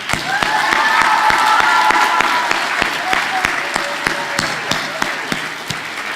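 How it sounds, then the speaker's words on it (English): An auditorium audience applauds teachers at a school event, steady massed clapping with some cheering, loud and sustained throughout with sharp individual claps standing out. "Let us applaud all the teachers in this auditorium here."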